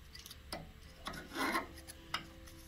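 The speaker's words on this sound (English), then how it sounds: "with our pick, just gently break apart the coffee" A pick scrapes and rasps at packed coffee grounds inside a Mythos Plus grinder, several faint close-up scratching strokes with a longer rub in the middle.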